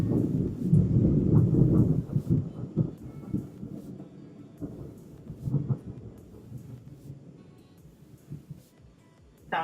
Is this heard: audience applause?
no